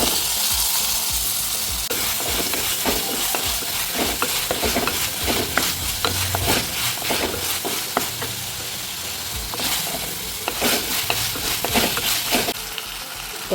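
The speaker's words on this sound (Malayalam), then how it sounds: "ഇനി ഇതൊന്ന് നന്നായിട്ട് വഴറ്റി കൊടുക്കാം. ഇനി ഇതിലേക്ക് തക്കാളി ഇട്ട് കൊടുക്കാം." Onion masala with ginger garlic paste and tomato sautéing in a pan for chicken feet curry, a dense continuous sizzle broken by frequent scraping and clacking stirring strokes, close up and loud.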